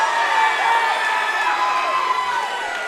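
Spectators at an MMA bout, Coby Bradford versus Parker Didier, roar and shout in a steady, loud wall of crowd noise that holds for the full stretch without a break.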